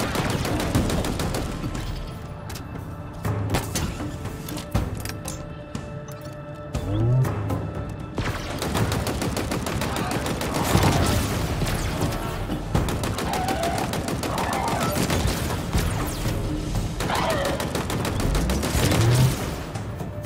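Halo Infinite combat: rapid bursts of automatic gunfire and heavy explosions repeat through the stretch, loud and dense, with occasional deep booms and no speech.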